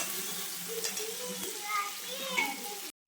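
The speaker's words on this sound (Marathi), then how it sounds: "आता मस्त टमाटा आता बारीक मऊ होईपर्यंत आपण जरा शिजून घ्यायचा." Tomatoes soften while frying in a pan with onions, a steady close sizzle with soft stirring scrapes throughout, cut off by a brief silence at the very end.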